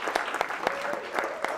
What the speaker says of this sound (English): Everyone give Dexter a round of applause.